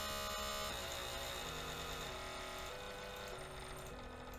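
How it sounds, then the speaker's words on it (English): An original ungeared Lego 9-volt motor runs on PWM drive, giving a steady electric whine with tonal buzzing that shifts in pitch as the speed changes, continuous and fairly close throughout. "So this is the original ungeared 9-volt motor."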